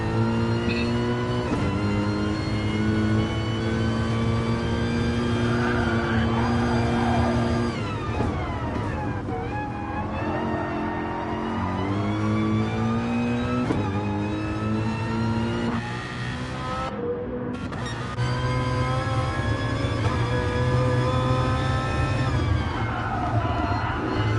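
A Gr3 race car on an out lap at Dragon Trail Seaside in a racing game, its engine note climbing and dropping through gear changes, loud and close from onboard, with brief lifts between sustained revving pulls.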